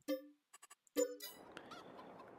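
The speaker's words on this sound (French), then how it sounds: "On va pouvoir ici donner à manger aux poules" Chickens in Farming Simulator 22, a farm video game, give a few short clucks and squawks at the start, followed by a steady busy rustle of poultry ambience and scattered calls in the background.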